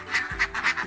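Laying ducks quack in a quick run of about four nasal, close-up calls in under a second, with no speech.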